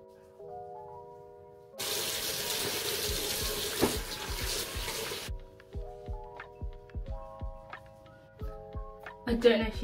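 A bathroom tap runs steadily for a few seconds as someone washes off a sugar face scrub, a broad rushing stream that then stops, leaving clicks, taps and faint music in the background.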